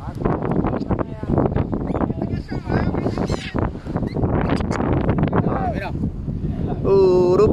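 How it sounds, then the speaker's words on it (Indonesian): Strong wind buffets the microphone at the beach, a steady low roar throughout, with people talking over it and a faint bird call near the end. "sebab hari ni angin kuat kat pantai"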